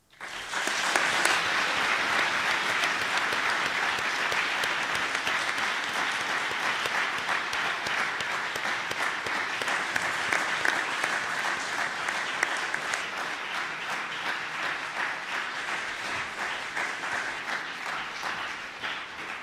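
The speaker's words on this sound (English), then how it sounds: "This big round of applause goes to you." Sustained audience applause at a closing ceremony, a dense steady wash of many hands clapping that runs unbroken and fairly loud for the whole stretch, with a faint voice or two underneath.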